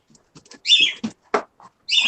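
A pet bird calls in short, sharp chirps and shrill squawks, several bursts with gaps between, close and fairly loud, with no talk.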